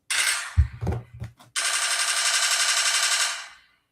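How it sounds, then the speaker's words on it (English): A gunshot sound effect: a burst of rapid automatic-style fire, a few heavy separate blasts, then a long, loud, sustained rattle of gunfire that fades out at the end. "Where is my gunshot?"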